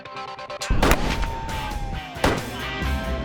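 Shots from a gun fired at a person standing roughly 400 yards away during a bullet-dodging test: two sharp, loud cracks about 1.4 seconds apart, each trailing into a lingering rumble, with no talk.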